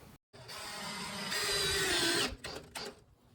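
A power drill drives a screw into plywood with a steady high whirring whine lasting about two seconds, followed by a few short bursts as it stops and restarts, close and fairly quiet.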